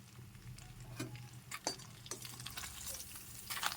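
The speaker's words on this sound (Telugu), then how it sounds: "చక్కగా ఇదైతే తిప్పుకోవాలి ఇదిగోండి ఫ్రై అయితే ఏగుతుంది" Chicken curry frying in a pan is stirred, with a steady low sizzle under scattered scraping and clinking taps of the spoon, close and moderately loud, no talking.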